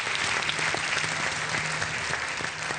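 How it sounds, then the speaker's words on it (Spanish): A TV studio audience on a 1997 variety show applauds warmly in a dense, continuous wash of clapping that holds at an even level throughout. "Así que este cariñoso aplauso para recibir a Aileen Shi."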